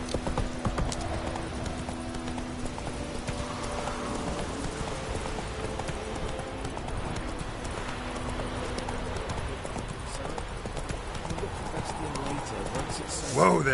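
Roach, the horse in The Witcher 3, gallops with a steady clip-clop of hooves running through the whole stretch, loud and continuous, with faint birdsong and game ambience behind.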